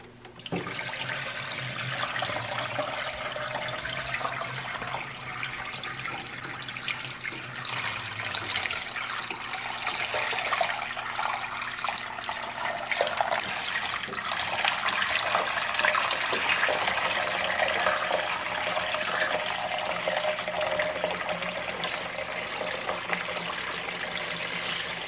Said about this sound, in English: So let's put some water.